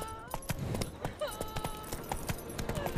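Roach, Geralt's horse in The Witcher 3, clops along in a steady rhythmic stream of hoofbeats, with faint game voices and tones in the background.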